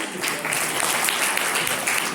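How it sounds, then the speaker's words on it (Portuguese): Short, full round of audience applause in a church gathering, dense and fairly loud throughout with no voices on top. "Palmas para eles também"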